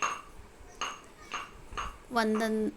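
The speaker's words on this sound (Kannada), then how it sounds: "ನನ್ನ ಮಗಳು ನೋಡಿ ಎಷ್ಟು ಖುಷಿಯಿಂದ ಕುಟ್ತಾ ಇದ್ದಾಳೆ" A girl pounds tamarind, garlic, dried chillies, jaggery, salt, cumin and pepper in a mortar: about five evenly spaced, sharp knocks, with a voice rising over the last ones.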